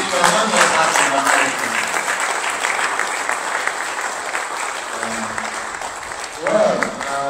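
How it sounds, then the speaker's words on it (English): Audience applause after an inaugural lecture on medicinal chemistry and oncopharmacology, sustained clapping from a hall crowd, fairly loud and steady throughout, with a brief swell near the end. "Please give him a hand of applause."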